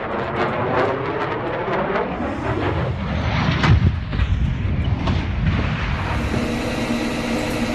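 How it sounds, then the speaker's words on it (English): A Pakistan Air Force F-16 fighter jet near Islamabad roars in a heavy, continuous engine rumble that swells into a deep, booming crash, loud and rough throughout, with no voices. "A video of a PAF F-16 fighter jet crash near Islamabad's Shekhar Parian."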